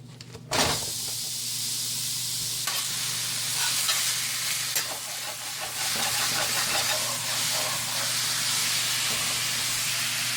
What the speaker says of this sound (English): So now we're gonna put it down on like medium-high heat and stir it often